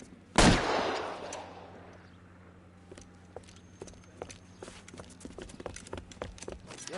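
A single loud gunshot cracks close by in LA Noire, its echo decaying over a second, followed by scattered footsteps and small clicks and knocks over a steady low hum.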